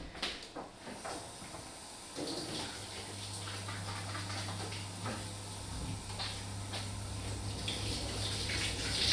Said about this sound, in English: So I'm just going to go and wash my hands.